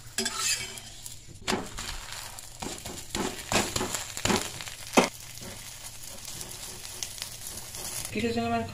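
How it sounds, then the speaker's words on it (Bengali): Sattu paratha flatbreads fry on a hot pan with a low sizzle, broken by several sharp scraping clatters of a spatula as they are turned and flipped, all close by and without talk. "এবারে একে একে সমস্ত পরোটাগুলো এইভাবে ইপিট ওপিট করে ভালো করে সেঁকে নেব"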